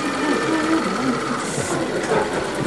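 SE3 steam engine at a steam engine show, ticking over slowly and steadily with a soft rhythmic mechanical beat amid outdoor background noise.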